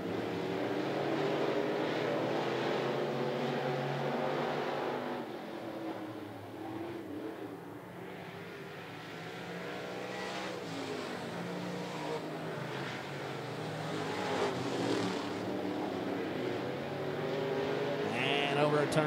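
Sportsman race cars roar around the 411 Motor Speedway track in a continuous distant engine drone that rises and dips as the pack passes, under a race announcer's commentary.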